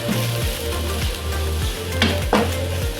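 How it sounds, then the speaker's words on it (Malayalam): Turmeric, coriander powder, garam masala and ground pepper sauté with onions in a pan for potato curry, loud steady sizzling with repeated clinks and scrapes of stirring. "ഇനി ഇത് പൊടിയെല്ലാം ഒന്ന് നന്നായിട്ട് വഴറ്റിയെടുക്കാം"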